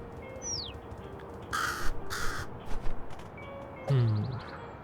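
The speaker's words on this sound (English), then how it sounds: "We don't need any more birds" A crow in the video game Little Kitty, Big City gives several loud, harsh caws close by, spaced out over a quiet background.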